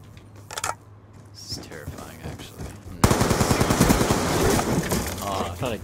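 Rapid automatic gunfire rattles in Black Ops 2, a dense burst of bursts filling the second half after quieter scattered shots and game noises, with a player's voice talking over it.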